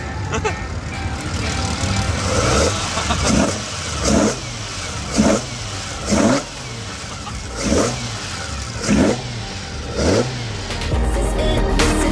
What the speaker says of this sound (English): The owner let me sit in his Skyline, and now I can rev it.